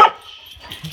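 Excited puppies bark and yip indoors on a bed, a sharp close bark at the start followed by fainter, softer yelps.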